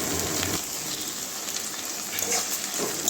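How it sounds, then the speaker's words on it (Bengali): Small cut pieces of okra fry in a pan, producing a soft continuous sizzle with a couple of brief stirring scrapes, fairly close and without talking. "ভেন্ডির কাঁটাগুলো যাওয়া পর্যন্ত ভেজে নেবো"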